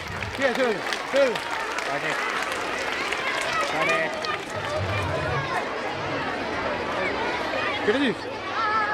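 Audience applause at a school annual function, a dense steady patter of clapping lasting throughout, with crowd chatter and voices mixed in underneath.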